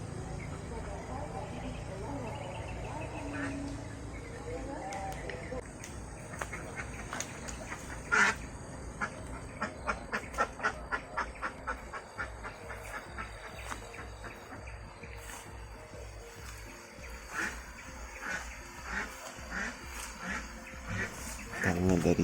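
Ducks quack repeatedly from a village duck pen behind a house on a drizzly morning, a busy chorus of close, overlapping calls with a voice speaking over them.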